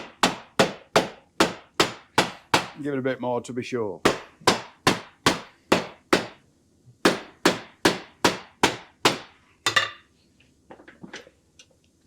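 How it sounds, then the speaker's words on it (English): A shoemaker's hammer lands steady, sharp blows one after another on a hard surface while making chukka boots, with a brief pause and a short spoken remark midway. "The shoemaker's favourite tool, the hammer."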